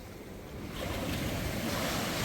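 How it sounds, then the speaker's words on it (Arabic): Sea waves washing onto the beach at Marsa Matruh, a soft broad surf wash swelling louder partway through, steady and moderately distant with some wind, no talk. "وده البحر بقى"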